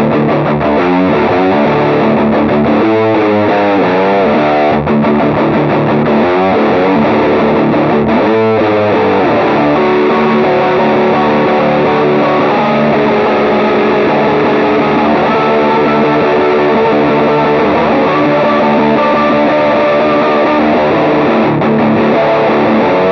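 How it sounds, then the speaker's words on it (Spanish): An MXX Pedals Bad Motherfucker distortion pedal, made for guitar or bass, plays a dense, heavily saturated tone that stays loud and steady throughout, with sustained chords and a few note slides, and no talking. "Este es el Bad Motherfucker, es un pedal de distorsión que puede ser tanto para guitarra como para bajo"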